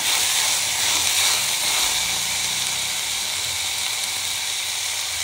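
Mint and curry leaves frying in ghee with sweet corn, a steady close sizzling hiss that runs unbroken and alone, without talk.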